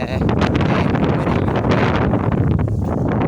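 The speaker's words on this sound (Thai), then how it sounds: "ไม่รู้ได้ยินเสียงผมหรือเปล่าลมมันแรงมากเลย" Strong outdoor wind roars and buffets the microphone in a dense, loud, continuous rumble with gusty swells throughout.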